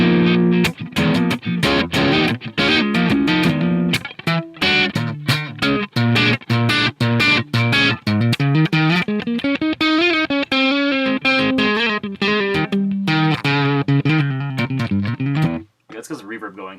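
Electric guitar through a Bias FX metal amp with reverb plays a continuous, heavily distorted riff with fast chugging strokes and sustained bends, loud and close, ending in a sudden break and a short tail.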